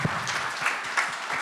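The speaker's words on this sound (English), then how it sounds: "First of all, big round of applause." Audience applause at a panel event on family office investors, a short burst of dense clapping that stays fairly steady and moderately loud with no voices over it.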